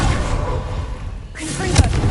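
A Bombarda explosive spell detonates in the video game Hogwarts Legacy, a short rumbling blast with a sharp thump near the end.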